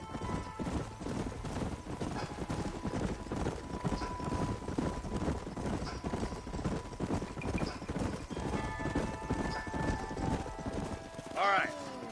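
Horses' hooves clip-clopping in the Red Dead Redemption video game, a steady rhythmic trot carrying on throughout, with a brief neigh near the end and faint ambient sounds underneath.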